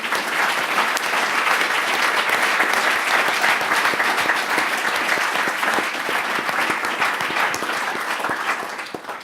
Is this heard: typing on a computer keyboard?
no